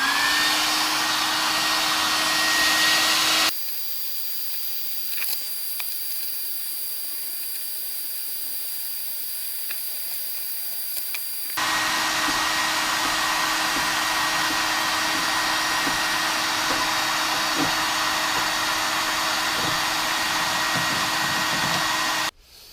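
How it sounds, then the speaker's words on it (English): A hairdryer blows steadily close by, warming the metal of a Land Rover 110 door during restoration; its loud whooshing roar drops to a thinner whine for several seconds, then returns full and holds until cutting off at the end. "I've got a hairdryer here, and what I'm going to do is just warm up this metal very slightly."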